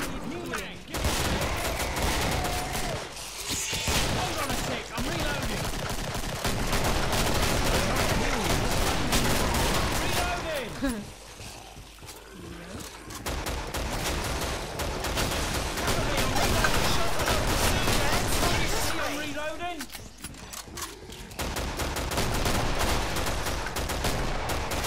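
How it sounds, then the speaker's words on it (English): Dense, continuous gunfire from a co-op session of the video game Killing Floor, rapid bursts and heavy shots nearly nonstop with brief lulls, while players talk over the shooting. "I'm going to keep shooting. Keep firing."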